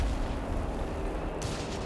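Mortar fire in Company of Heroes 3 during a 4v4 tank battle, a dense rumbling barrage of low booms and blasts rolling continuously, with a sharper burst near the end.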